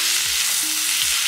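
A steak hits a hot buttered pan in a dorm room, setting off a loud, dense, hissing sizzle that fills the short moment, with a couple of low knocks from the pan, no talking.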